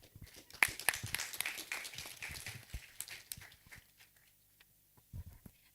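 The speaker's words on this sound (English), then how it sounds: "Another round of applause for Dr." Scattered applause from a hospital scientific conference audience rises in uneven bursts, then thins out to near silence, with a few last claps near the end.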